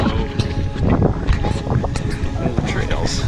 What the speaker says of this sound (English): It's a bit windy right now